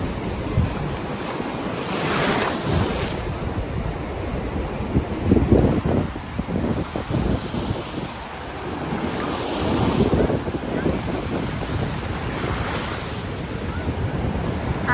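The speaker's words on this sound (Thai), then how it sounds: "น้ำทะเล คลื่นบางแห่งค่อยลงไปแล้ว" Sea waves wash and break steadily along a shore, with gusts of wind buffeting the microphone and a constant surf roar throughout, no talk over it.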